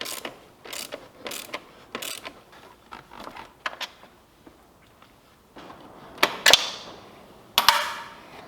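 Bolts come off the rear suspension shock of a KTM 450 SX-F motocross bike with a ratchet, giving a series of close, crisp clicking bursts followed by a couple of louder metallic clanks near the end.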